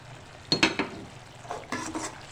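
Potatoes are tipped into hot oil with fried curry leaves in a cooking pot, and a spoon stirs them, giving a few soft clattering scrapes over a faint, quiet sizzle.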